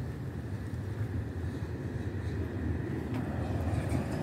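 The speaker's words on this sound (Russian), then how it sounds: "Трамвайчик побежал." A tram rolls past in a courtyard of five-storey blocks in central St. Petersburg, a steady low rumble with no pauses, moderately close and even in loudness throughout.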